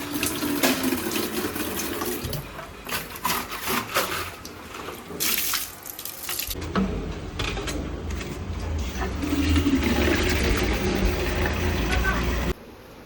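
Tap water runs and splashes as drinking water is fetched in a home, a steady hiss continuing under people talking nearby, growing fuller toward the end before stopping abruptly.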